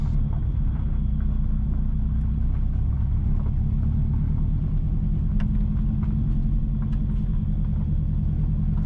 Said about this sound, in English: Currently, we are driving west from Hopewell towards Marlborough.